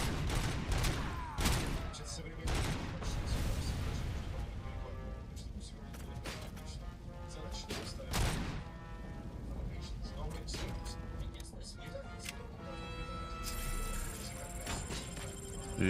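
Gunfire and crashing impacts in the shooter game Robocop: Rogue City, irregular loud shots and bangs scattered through a busy mix, with someone talking over parts of it.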